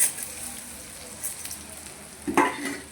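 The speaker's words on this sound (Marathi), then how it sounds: "डाळ टाकली, डाळ बी हलवून घेतली." Brinjal and dal fry in a pan for a rassa bhaji and are stirred, giving a soft steady sizzle with a louder scrape and rustle of stirring near the end, close by.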